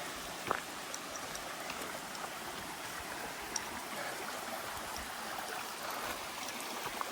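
A creek flows beside a hiking trail on the Appalachian Trail, a faint, constant watery rush with a few soft drips and splashes, heard alone without voices.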